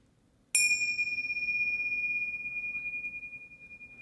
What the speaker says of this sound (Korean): 여러분은 종소리에 귀를 기울이시고 편안하게 눈을 감으시면 돼요